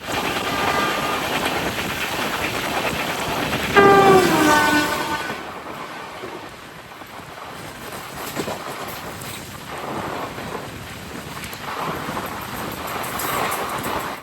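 Mangaluru Mail train made up of ICF coaches runs along with a steady rolling rumble; a loud horn blast rings out near the start, then the clattering carriage noise carries on alone.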